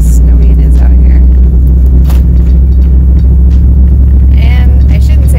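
A Jeep with an LS engine, an adventure rig, drives along a snow-covered road, its steady loud engine rumble and road hum running throughout with a few faint knocks on top.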